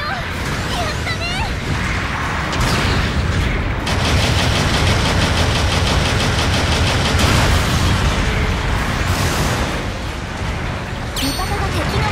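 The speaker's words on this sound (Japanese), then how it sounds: "後方部隊から支援砲撃が来るよ" Support artillery bombardment in Gundam Battle Operation 2 roars as a sustained, loud barrage of overlapping blasts and rumbling explosions, with a voice speaking over the dense wall of noise.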